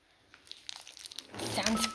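Slime with add-ins is squeezed and worked by hand, giving quiet crinkly crunching and squelching that grows louder and busier toward the end, with no voices.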